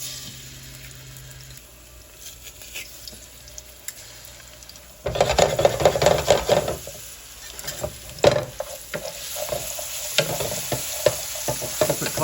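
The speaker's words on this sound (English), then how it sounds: "we're just going to crush our garlic straight into the pan" Crushed garlic hits olive oil in a fry pan and breaks into a loud, close sizzle with stirring scrapes and clatter, after a quieter stretch of faint kitchen background.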